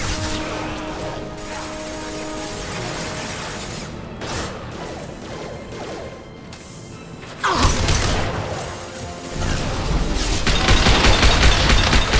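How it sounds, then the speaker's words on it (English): Concussive shot firing and combat noise in Mass Effect 2 Legendary Edition, a busy, steady wash of mechanical clatter and shots, with a sharper, louder burst partway through. "Firing concussive shot."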